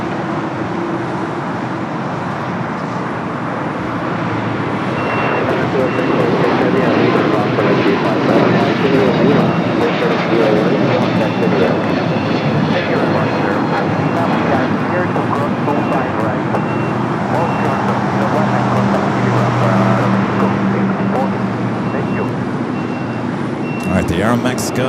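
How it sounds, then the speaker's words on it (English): Aeromexico Boeing 787 Dreamliner taxiing at LAX, a loud sustained jet engine roar that builds after the opening seconds and holds steady, with faint tonal whines and a distant beeping in the background. "The Aeromexico Dreamliner now going to cross over 25 at right, head up to the north side."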